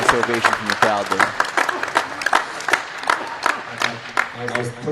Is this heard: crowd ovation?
yes